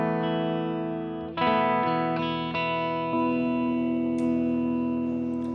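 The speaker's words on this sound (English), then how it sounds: "That's the first overdrive being kicked in there." Electric guitar runs through an overdrive pedal on a digital amp rig, sustained chords ringing with a light crunch, then fresh strums after the pedal kicks in, moderately loud and alone with some reverb.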